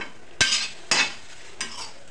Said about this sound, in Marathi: भेंडी भाजून घेणार आहे